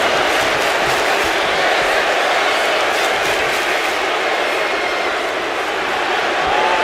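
A wrestling arena crowd in the video game WWE 2K25 roars continuously, a dense, loud wash of cheering that stays steady throughout.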